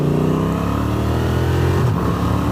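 A Honda Transalp 750 motorcycle with a DCT gearbox pulls away under gentle throttle, its engine droning steadily and close with wind rush over it, pitch shifting slightly near the end.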